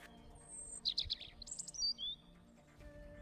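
Short high-pitched whistling calls from a kite (bird of prey), used as a story sound effect, with a few thin cries over a quiet background.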